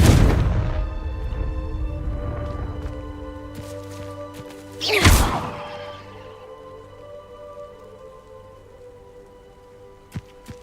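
A Confringo blasting spell explodes in Hogwarts Legacy, a single loud burst with a sharp crack and rumbling tail about midway, set against steady ambient game sound, with a small thud near the end.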